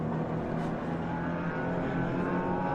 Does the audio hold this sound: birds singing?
no